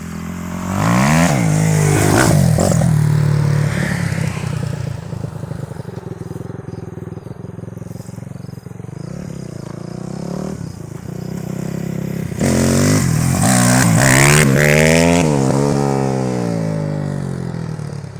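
A Kawasaki KX250F dirt bike engine revs hard while riding, rising and falling in sharp bursts of acceleration, loud and close, easing off through the middle before climbing again with repeated throttle blips.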